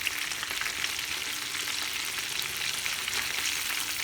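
Breaded KFC-style chicken fries in hot oil in a pan with a dense, steady hiss and crackle, close and even throughout.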